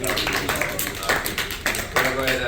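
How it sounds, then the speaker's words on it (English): A convention audience claps for a book-publishing panel at Gencon 2023, a brief round of close, fairly loud applause with voices talking over it. "We'll give a quick round of applause."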